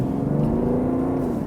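A steady, low diesel engine drone in a 2017 BMW 530d Touring, rising slightly in pitch as it accelerates, heard from inside, loud and continuous.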